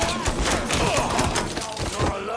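Dense, continuous gunfire fills a Mafia III shootout, overlapping bursts crackling loud and close without a break, with voices buried under the barrage.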